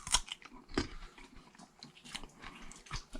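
Crunchy fruit such as tejocote, lychee, guava, cherimoya or sapodilla being bitten and chewed up close, with sharp crisp crunches at the start and softer wet chewing continuing alone.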